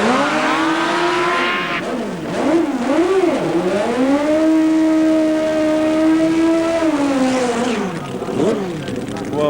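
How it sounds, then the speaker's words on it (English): A nitro-burning drag racing motorcycle at Santa Pod Raceway, 1993, does a static burnout: a loud, close engine roar with rising and falling revs and a long sustained high howl, under a commentator's voice. "this is Chris Hall, just about to start his static burnout"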